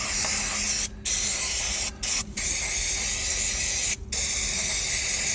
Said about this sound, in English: Let's get your brake clean and get plenty of tins of it if you plan to do this.